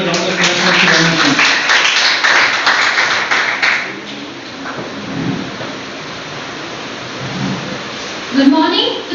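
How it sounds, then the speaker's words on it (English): An audience at a school English debate competition applauds with dense, loud clapping that gradually thins out into scattered claps. "Let's give a round of applause for Shreyanshi."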